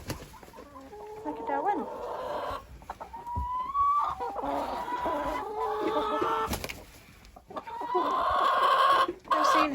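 Chickens cluck close by in a farmyard, with a rooster among them, as a child and adult chat over the repeated clucks and squawks.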